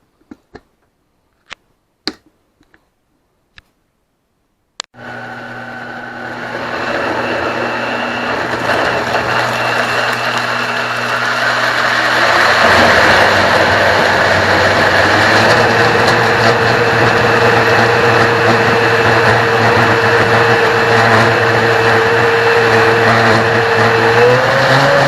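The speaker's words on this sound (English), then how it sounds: "I will let the blender do its magic." A kitchen blender whirs steadily through a batch of garbage pail soup with bacon, starting abruptly after a few sharp clicks and holding a loud, continuous motor drone that grows slightly fuller as it runs.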